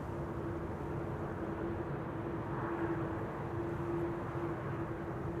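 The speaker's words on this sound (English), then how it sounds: "this is Ryanair flight 420 arriving from Dublin in Ireland" An eight-year-old Ryanair airliner arriving at Amsterdam Schiphol from Dublin gives a distant, even wash of jet noise with a faint steady hum running through it, unbroken and fairly quiet.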